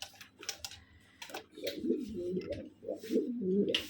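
Fancy pigeons cooing and calling, with a restless, aggressive male courting a hen, giving low throaty rolling coos that swell and repeat alongside a few sharp clicks and taps, close by.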